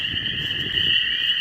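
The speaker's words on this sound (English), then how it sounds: "So what you're hearing now are spring peepers and toads" Spring peepers and toads in Big Bend call together in a dense, steady high trilling chorus that drones on without a break.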